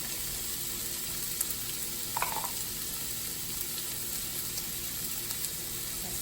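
Onion and celery frying in a pan give off a steady, even sizzle throughout, with a brief clink of stirring partway through.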